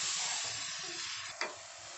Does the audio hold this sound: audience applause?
no